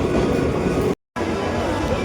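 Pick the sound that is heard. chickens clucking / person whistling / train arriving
train arriving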